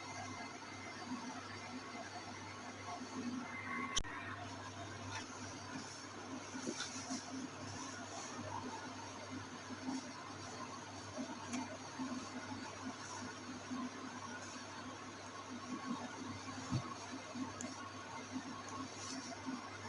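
A sewing machine stitches fabric for an overlapped V-shaped neckline, giving off a faint, steady mechanical whir that runs unbroken throughout with no voices.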